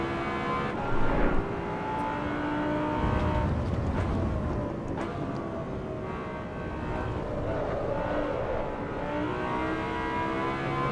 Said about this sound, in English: listen to that glorious V10 soundtrack on this one